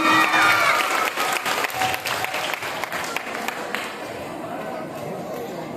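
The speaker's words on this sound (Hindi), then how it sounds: "तालियां होनी चाहिए" Audience clapping at a school quiz competition final, loud at first with some chatter and voices, then gradually thinning and fading toward the end.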